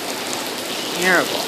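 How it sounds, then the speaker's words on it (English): Heavy rain pours at the Shaker Family Ford dealership in Lincoln, a steady, dense hiss that continues throughout while a voice briefly speaks a single word over it. "Lots of rain."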